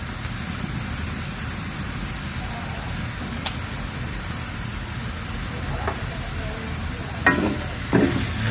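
A stir-fry seasoned with oyster sauce and pepper sizzles steadily in a pan, with soft occasional scraping and clinks from a utensil as it is stirred near the end.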